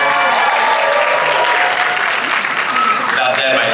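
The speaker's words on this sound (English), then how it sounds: "I just want to give a quick round of applause to our amazing tech crew in the back" An anime convention audience gives a loud, sustained round of applause and cheering for the tech crew in the back, a dense continuous wash of clapping with faint voices mixed in.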